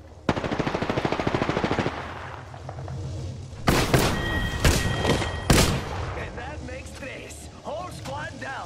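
Alternator and Devotion gunfire in Apex Legends: a fast, loud automatic burst up front, then sharper heavy shots and impacts, with team voices calling out over the action.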